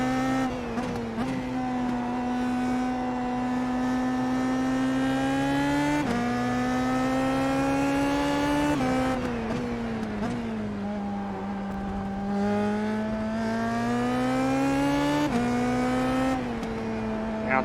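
A race car engine in the IndyPro 2K video game drones loudly and continuously, its pitch rising and falling as it accelerates and eases off, with tire noise underneath. No voices are heard.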